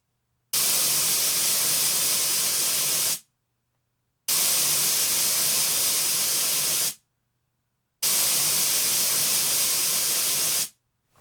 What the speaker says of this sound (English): the software generated the pink noise